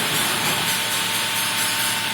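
A CNC machine runs steadily just after cycle start, giving a continuous, fairly loud broadband mechanical whir and hiss with no pauses and no one speaking.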